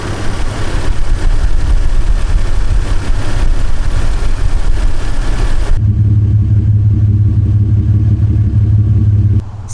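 A warmed-up 3.4 liter V6 in a 1998 Toyota Tacoma with 180k miles, freshly treated with Seafoam, runs loud and steady up close, its broadband roar giving way to a smoother, lower idle hum partway through.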